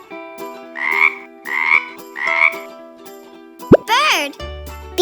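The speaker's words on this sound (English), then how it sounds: "How does a frog sound?" A frog croaks in three quick, evenly spaced bursts, loud and close, followed by a brief swooping call and a voice at the end.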